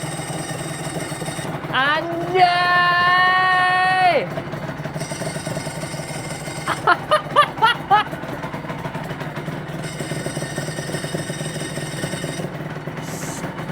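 A Honda NSR MC28 two-stroke motorcycle with a dry clutch idles with a rough, rattling tone, punctuated by a brief revving surge and a short burst of throttle blips, while people talk nearby.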